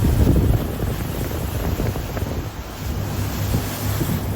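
A covered boat moves across open water in Venice, with a steady wash of waves and wind rumbling close to the microphone for the whole stretch and no talk.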